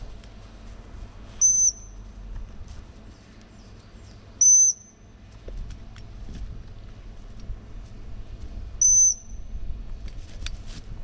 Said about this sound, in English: My whistle stop signal is just a sharp peep, longer than that of recall or a turn cue.